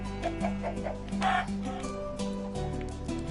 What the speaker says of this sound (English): Chicken, get off my lawn.